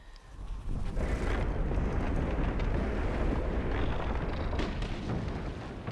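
A rumbling explosion from the video game From Dust starts abruptly and then roars on as a sustained, loud, wind-like blast that slowly eases toward the end.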